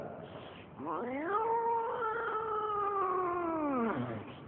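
A voice mimics a second cat, giving one long drawn-out wavering yowl that rises, holds steady for about three seconds and falls away, close and alone.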